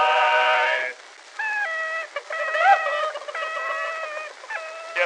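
On an old recording, a chicken sneezing effect comes as a series of short, bright, squawking cluck-like bursts, probably imitated by a voice.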